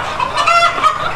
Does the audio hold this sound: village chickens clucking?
yes